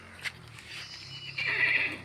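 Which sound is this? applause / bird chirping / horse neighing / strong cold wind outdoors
horse neighing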